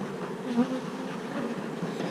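Honeybees drone inside a queenless hive, a close, steady buzzing hum at moderate volume with slight swells, unbroken throughout and no voices.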